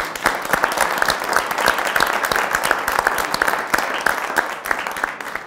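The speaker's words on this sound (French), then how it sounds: "bravo, on vous applaudit" A studio audience and jury at a French television debate show give sustained applause, a dense wash of many hands with sharp individual claps standing out throughout.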